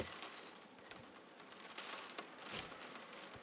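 Proper rain falling outdoors on an Oregon overland trip, a faint steady hiss of drops with scattered louder patters, no voices.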